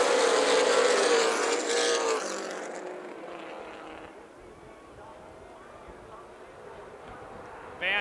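Race cars from the ARCA/CRA Super Series roar around the Toledo Speedway oval, a loud engine howl that sweeps past and fades into a distant drone while a commentator talks throughout.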